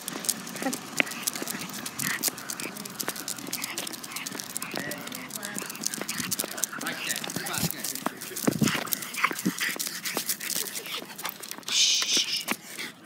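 Dogs out on a walk make scattered whimpers and yips among many quick tapping and pattering sounds that run throughout. People talk intermittently over them.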